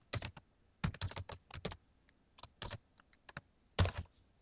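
JavaScript code is typed on a computer keyboard: close, crisp key clicks come in uneven clusters and single taps, with brief pauses between bursts.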